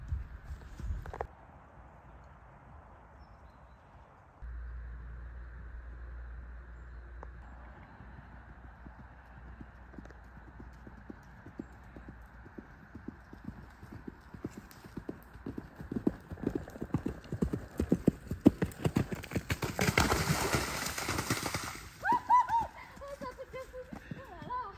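Rapid hoofbeats of a galloping horse grow louder and more insistent, with a burst of rustling noise near the end and a brief voice at the close.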